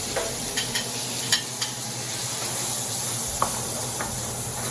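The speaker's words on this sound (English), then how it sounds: "We're just going to do a light searing on this, and we're going to take them out." Squid pieces searing in a little hot oil in a pan for paella, a steady close sizzle and hiss with occasional light clinks of stirring against the pan, no talking.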